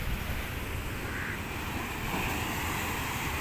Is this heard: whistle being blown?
no